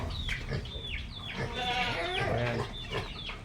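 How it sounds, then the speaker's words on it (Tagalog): Farm animals call nearby, with bleats mixed with clucking, several wavering cries over a faint outdoor background. "Titignan mo pa itong mga beke."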